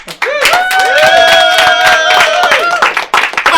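A live comedy club audience at Shakers on Clark claps and whoops, brisk clapping mixed with a loud sustained vocal cheer from the crowd, fairly close and energetic.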